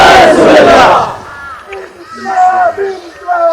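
A crowd at a Quranic lecture loudly chants religious slogans in unison, a powerful shout that fades into individual voices and lingering calls.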